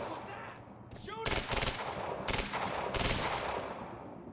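Video game gunfire in bursts: a rapid rattling volley of shots, a short pause, then two more loud sustained bursts, with faint game voices in between.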